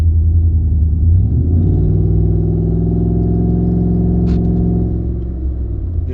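A 2015 Ford F-150 with a 5.0 engine drives at low speed, a loud, steady in-cab drone that rises in pitch and drops as it shifts gear, then settles a little quieter.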